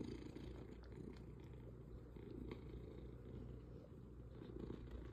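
A cat purrs in a steady, continuous low rumble, very close but soft, with no talking over it.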